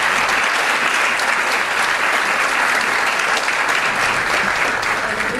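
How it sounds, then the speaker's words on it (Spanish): Warm audience applause after a speech at an academic visit, dense steady clapping from a large crowd filling the room, continuous and even throughout with no voices on top. "generosidad que podremos en parte retribuir con un caluroso aplauso."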